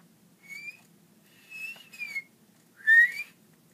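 A man whistles short tuneful notes in three separate bursts with pauses between, near and clear against a quiet background.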